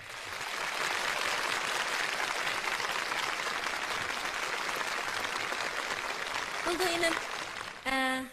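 Audience applause at a Uyghur concert: loud, sustained clapping from a large crowd that runs nearly the whole time, with brief tones and a voice near the end.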